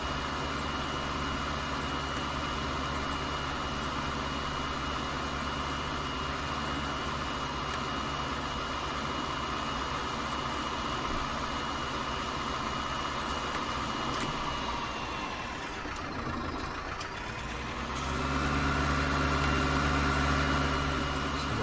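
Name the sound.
Fendt tractor engine in Farming Simulator 19 video game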